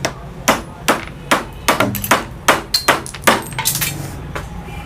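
Part of a gas stove being knocked off during servicing: about a dozen sharp metallic hammer blows land in a fairly steady rhythm, loud and close, with a clanking ring on each strike.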